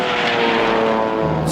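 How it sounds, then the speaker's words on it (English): A cartoon propeller airplane engine roars loudly and steadily up close, a continuous droning hum with no talking over it. "Stop that airplane!"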